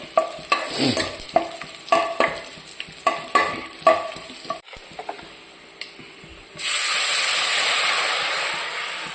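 Pizhi puli curry stirred in a hot pan: a series of scraping, clinking strokes over a steady sizzle, then a loud continuous hiss of steam and frying for the last few seconds.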